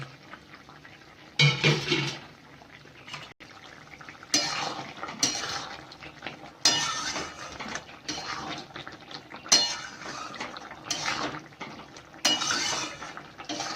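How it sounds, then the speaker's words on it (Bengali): A lid lifted off a pan of simmering ladies finger (okra) vegetable dish, with repeated close metallic clatters and clinks of cookware in uneven bursts. "এবার আমি এটা ঢাকনাটা খুলে দেখছি রান্নাটা কত দূর এগোলো"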